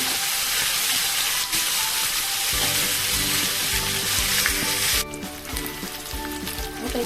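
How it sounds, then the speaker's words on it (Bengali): Ginger paste dropped into hot oil in a frying pan for chilli soyabean, a loud close sizzle that settles into a softer, steady crackling fry after a few seconds. "এবার দিয়ে দেবো ওর মধ্যে আদা বাটা"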